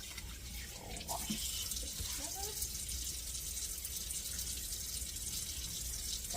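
Tap water runs steadily in a kitchen sink while fish is washed, a continuous close splashing flow with brief clatter near the start.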